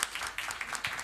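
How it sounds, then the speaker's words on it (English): A conference audience in a hall at a pediatric intensive care meeting in Kolkata bursts into dense, lively applause, heard as a brief, close stretch of clapping. "Big round of applause to them."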